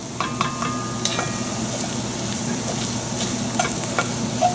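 Pickled garlic sizzles in a pan for shrimp étouffée, a steady frying hiss broken by occasional scraping and clinking of a utensil as it is stirred, close and moderately loud.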